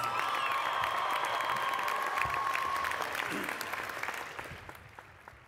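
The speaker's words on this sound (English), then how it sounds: "Please give them another big round of applause." Commencement audience applauding after graduates are recognized, a dense steady clapping that fills the hall and slowly fades away over the last two seconds.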